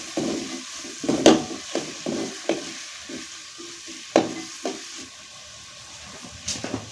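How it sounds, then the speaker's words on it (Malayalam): Chopped ingredients stirred with a spatula as they fry in hot oil in a pan for a Kerala dish: a steady sizzle with irregular scraping and clattering strokes of the spatula, close and fairly loud, with no voices. "ചട്ടുകം കൊണ്ട് നന്നായി ഇളക്കി കൊടുക്കുക"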